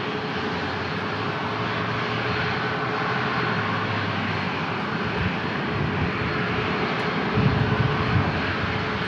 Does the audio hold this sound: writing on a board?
no